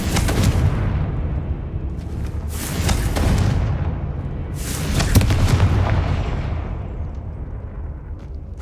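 Repeated Confringo spell blasts in Hogwarts Legacy, three loud fiery explosions about two seconds apart, each a crackling burst with a rumbling tail over a steady low background.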